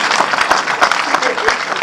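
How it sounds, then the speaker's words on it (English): A studio audience on a Nigerian TV quiz show gives a round of applause, dense close clapping filling the whole moment, with voices mixed in. "Please give him the shameful round of applause."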